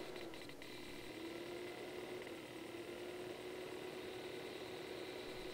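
A camera control arm's motor runs with a faint, steady mechanical whine and hum, holding an even pitch throughout with no talk.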